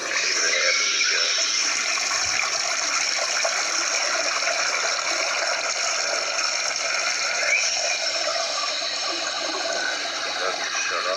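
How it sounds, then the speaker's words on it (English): A household faucet that won't shut off runs in a steady, hissing gush for the whole stretch, close and unbroken, with no pauses or talking. "I just ran this water and the black stuff came out."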